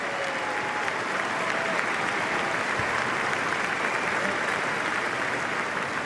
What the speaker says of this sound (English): as you hear the crowd cheering for him.